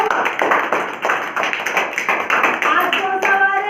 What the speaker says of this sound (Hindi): चलो तालियां बजाओ।